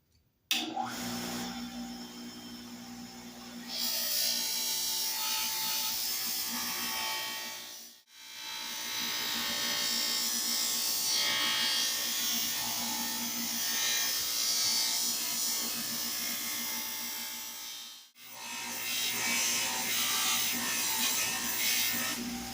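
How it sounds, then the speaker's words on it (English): A polishing wheel buffs an antique Erie Tool Works wrench with a steady, loud, high whirring drone, broken by two short drops to near silence as the part is pulled away and pressed back against the wheel. "Then we're going to hit it with a polishing wheel, give it a little bit more of a shine"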